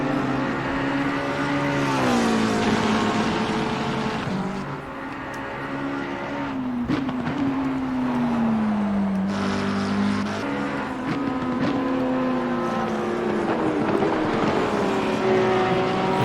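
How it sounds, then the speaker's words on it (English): McLaren GT race car lapping Circuit Zandvoort in Assetto Corsa Competizione, with a continuous loud engine howl rising and falling through gear changes. Other cars pass nearby and blend into the sustained drone. "Here's Lawrence Simpson in the number 9 McLaren."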